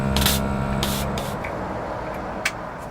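Hydraulic hose cleaned out during on-site repair work: a close, steady rushing hiss of air through the hose with a few sharper bursts, no voices.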